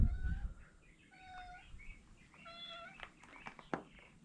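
A pet cat gives a series of soft, drawn-out meows, several short calls spaced apart at fairly close range in a quiet room, with a faint thump at the start.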